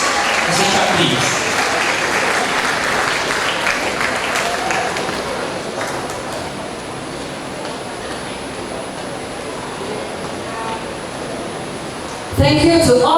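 Sustained audience applause at a school graduation ceremony, a dense, steady clatter of many hands lasting over ten seconds in a large hall, fading slightly before a voice returns at the end.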